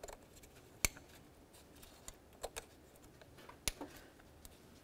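Car wiring connector on a 2006-2012 Ford Fusion engine clicking into place during a VVT solenoid replacement, a few sharp, faint plastic clicks spaced apart against quiet background.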